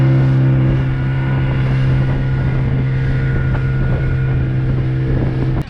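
A steady, loud drone comes from the engine of a 12-seater boat crossing to an island off Diglipur in the North Andaman. Wind rumbles against the microphone over the whole stretch, and no one speaks.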